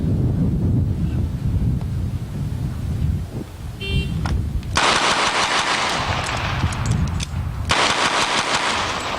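A rapid string of twelve gunshots fired at a target on the left, in two dense bursts of sharp, loud cracks over steady wind noise outdoors.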